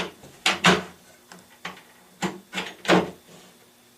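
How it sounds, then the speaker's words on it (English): Wooden lazy Susan shelf pushed into cabinet mounting clips, giving a series of sharp knocks and sliding clacks in irregular bursts, close and fairly loud, with brief pauses between. "We slide it right into the clips"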